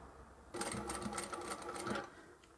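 A sewing machine runs for about one and a half seconds, stitching fabric with a backstitch, giving a close, steady, rapid mechanical whir that starts and stops abruptly. Nobody speaks.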